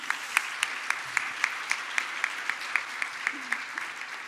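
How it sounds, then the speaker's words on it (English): Sustained applause from a crowd at a businesswoman of the year gala, with sharper individual claps poking through at a fairly regular pace. "So a huge round of applause for everyone this evening."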